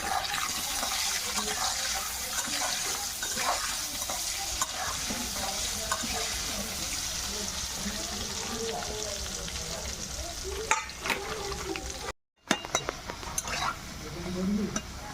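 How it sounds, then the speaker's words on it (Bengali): Sliced potatoes frying in oil with salt and turmeric for a spicy country chicken curry, a continuous close sizzle with stirring scrapes throughout and one brief dropout near the end. "সামান্য লবণ দিয়ে দেবো, হলুদ দিয়ে দেবো, দিয়ে আমি আলুগুলো ভেজে নেব।"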